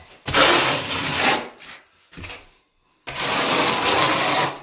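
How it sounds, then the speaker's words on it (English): Trowel raking joint compound down a cement board seam while taping joints, a steady broadband scraping in long strokes, with a pause midway and a second firm stroke after, close and alone. "you just take your trowel and rake it down"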